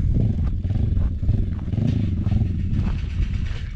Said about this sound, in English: She's getting the bikes out.